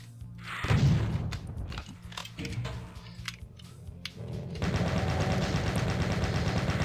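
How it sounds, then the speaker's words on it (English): Gunfire from the video game Doom as the player shoots floating skulls, a busy run of sharp shots and game effects that settles into a steady, dense barrage near the end. "I'll just calm myself down by shooting some skulls."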